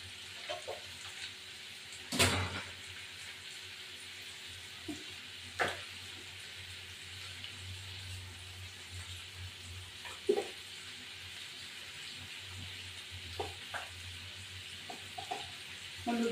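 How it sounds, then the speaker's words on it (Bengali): Snake gourd, grated coconut and tomatoes fry steadily in a pan, a continuous close sizzle broken by occasional sharp clinks and scrapes of a spatula. "এটা পুরো ভাজা ভাজা হবে, তারপর চিংড়ি মাছটা দেওয়া হবে"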